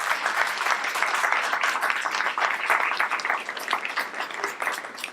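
Dense, steady applause from an audience at an energy and climate policy panel discussion, many hands clapping at once and filling the room at an even level throughout, with no talk over it.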